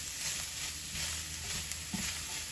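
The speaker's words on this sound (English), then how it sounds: "So we're just gonna give this a quick stir here. Combine all of the garlic and the onions together with the tofu." Garlic, onions and tofu sizzle steadily in a pan while being stirred, a close, even frying hiss with a few soft knocks from the spoon, with no voices.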